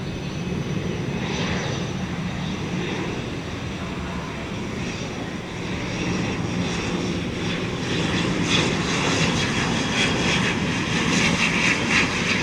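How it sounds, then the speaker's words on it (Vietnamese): An ATR72-600 turboprop airliner of Air Cambodia lands on runway 25R at Tan Son Nhat airport, giving a steady, loud engine roar and rushing air noise that swells slightly toward the end, with no talking. "bây giờ mời mọi người chiêm ngưỡng pha hạ cánh của ATR72-600 của Air"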